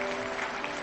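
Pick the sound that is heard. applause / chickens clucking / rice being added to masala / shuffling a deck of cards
applause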